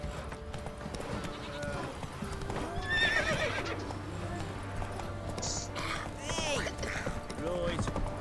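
Roach, a horse in The Witcher 3 video game, clip-clops at a run with a loud neigh midway, while game speech sounds over the hoofbeats.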